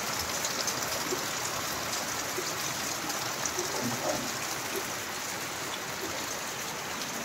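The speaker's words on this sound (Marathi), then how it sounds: "हा होता ओरिजिनल साऊंड पावसाचा" Heavy monsoon rain in the Konkan countryside pours in an even, dense hiss, steady throughout with no voices.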